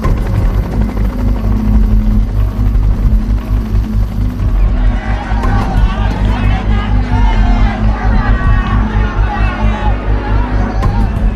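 Chinook helicopters arrive at an embassy during an evacuation: a loud, steady rotor throb with a crowd murmuring beneath it.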